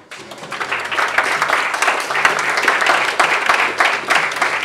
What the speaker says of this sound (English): Finally, a few kind of applause for our director, Lindsay.